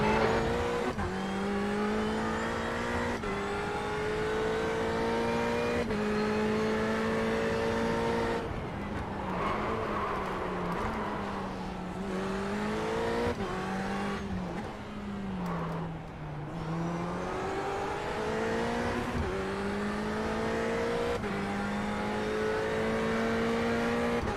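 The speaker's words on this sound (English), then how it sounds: "Okay, Ray, there's a faster class car approaching." Race car engines in a racing video game rev and climb through gears with repeated rising whines and shift drops, loud and continuous, with a dip as the car slows before accelerating again.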